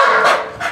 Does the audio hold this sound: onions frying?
no